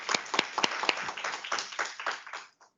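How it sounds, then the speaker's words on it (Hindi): Hearty applause at a Hindi week program: a brisk burst of clapping from an audience, fairly close and steady, tapering off at the end. "जोरदार तालियां"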